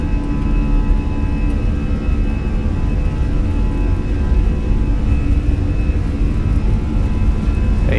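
Airbus A320 jet engines in easyJet livery spooling up to takeoff thrust in Microsoft Flight Simulator 2020, a steady, loud broadband roar with a constant whine, continuous and unchanging for the whole stretch with no talk over it.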